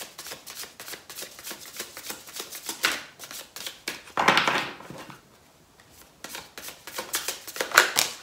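A Chakra Oracle deck of cards being shuffled by hand, with close, repeated crisp riffling bursts in quick rhythm, a brief pause, then more shuffling.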